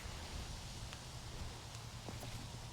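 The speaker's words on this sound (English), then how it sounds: "Ah, that's the wind." Faint, steady wind rushing across an open disc golf course at Fox Run Meadows, a low continuous roar with occasional light rustles and no talking.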